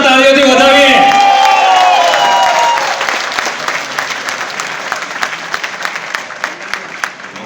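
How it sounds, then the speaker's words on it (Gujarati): At an entertainment event in Dubai, a crowd breaks into loud applause and cheering that starts under a loud vocal or music line and then continues as rhythmic, close clapping, gradually thinning. "જોરદાર તાળીઓથી વધાવીએ."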